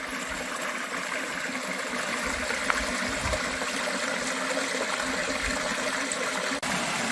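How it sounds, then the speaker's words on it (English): A canyon stream runs steadily near a trail to a hot spring in the Lake Mead area, a continuous broadband rush of flowing water, close and unbroken, with no voices over it. "Sounds of running water."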